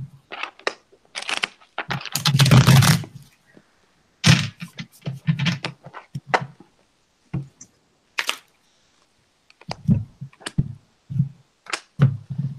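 Tarot cards being shuffled and handled in short, rustling bursts separated by pauses, close and fairly loud, with occasional soft taps.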